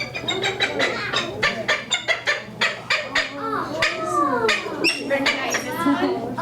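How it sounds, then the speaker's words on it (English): A peregrine falcon at a Minnesota zoo outreach program calls in a rapid series of sharp, harsh repeated cries, loud and close, with a person's voice talking over parts of it. "So this is our peregrine falcon."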